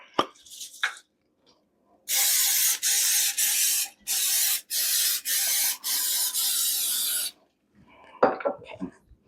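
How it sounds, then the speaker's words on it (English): Cooking spray applied to a muffin tin at a sink in a series of short, sharp hissing bursts, about seven in quick succession, close and loud, with clattering handling noises before and after. "I'm going to take this over to the sink and I'm going to spray probably 9 of these"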